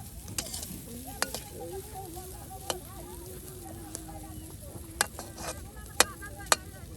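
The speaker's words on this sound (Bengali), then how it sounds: "কফিগুলো একদম সুন্দর করে এই যে ভেজে ভেজে নেওয়া হচ্ছে" Vegetables fry in a pan at an outdoor riverside cooking spot, giving a steady soft sizzle punctuated by sharp clicks and taps of stirring, with a person talking over it.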